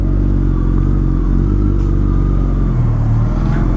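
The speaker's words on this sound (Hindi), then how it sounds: "तो नागो भाई हमारे राइड कर रहे हैं" A Suzuki Hayabusa motorcycle ridden through a narrow street, its engine loud and close with a continuous throaty drone and a slight rise in pitch near the end.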